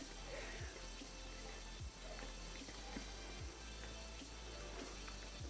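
T-bar cutting tool turned and tightened while cutting down a 14-inch window cleaning applicator to 6 inches, faint repeated ratcheting clicks at an irregular pace over a steady low hum.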